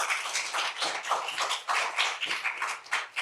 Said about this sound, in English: A real big round of applause.